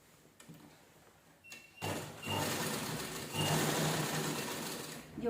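After a quiet start and a couple of faint clicks, a sewing machine starts up and hums continuously at close range, stitching around the edge of a fabric cover made from a blouse to hold religious books.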